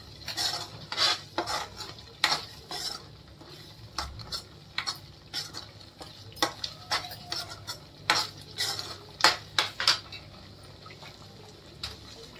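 Masala cooking in oil in a pan for a Marathi festive thali, heard as repeated metallic scrapes and clinks of a spoon stirring against the pan over a low, steady sizzle, fairly close, with no talking.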